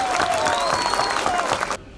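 Audience applause at a municipal workers' collective-agreement celebration at Buca Municipality, steady dense clapping with a faint whistle, loud and continuous before cutting off abruptly near the end.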